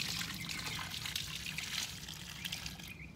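Water splashes and trickles steadily, as if poured from a container, with a continuous wet rushing sound that tapers off near the end.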